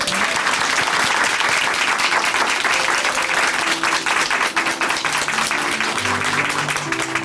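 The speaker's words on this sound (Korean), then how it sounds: "김영희 자매님께 다시 한번 큰 박수 보내드릴게요" A church congregation in Chuncheon applauds after a testimony at a worship service. The full, steady applause stays loud throughout, with a faint tonal hum rising underneath near the end.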